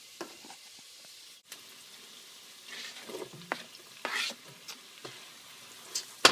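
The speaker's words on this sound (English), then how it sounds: "So that's sizzling." Onions and butter sizzle in a pot while being stirred, with a soft frying hiss broken by scraping and clanking utensil strokes that grow louder toward the end.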